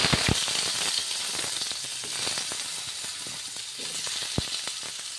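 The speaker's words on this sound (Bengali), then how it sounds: "তেল গরম হয়ে গেল এবার আমি আলুগুলি ভাজতে দিয়েছি প্রথমে" Potatoes frying in hot oil in a wok, a steady loud sizzle broken by occasional sharp pops and crackles.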